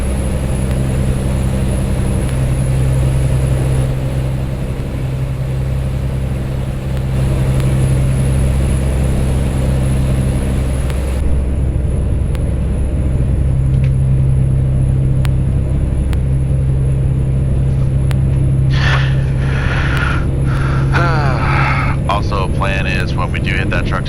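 A tractor trailer truck in American Truck Simulator drives with a steady, loud engine drone and low road rumble, and a voice talks over it throughout.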